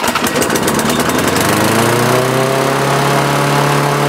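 A small lawn mower engine, just fitted with a new carburetor diaphragm and primed, fires up and settles into a loud, steady running drone that holds through to the end, with no talking.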